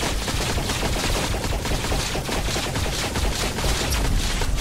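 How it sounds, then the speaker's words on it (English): Dense, rapid gunfire from a VR shooting game rattles continuously as militia bots are shot, loud and unbroken for the whole stretch with no talking. "Let's shoot them."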